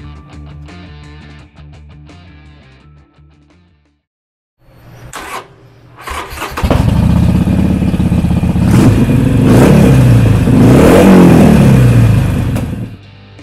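A 2016 Harley-Davidson XL1200CX Sportster 1200 Roadster engine revs loud and near, rising out of a quiet, clattery opening into a sustained, swelling roar.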